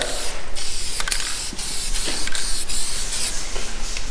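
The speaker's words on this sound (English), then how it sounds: "So you're spraying the whole entire car." Steady, close hiss of a spray gun applying primer to a whole car, with short bursts and pauses as the trigger is pulled repeatedly.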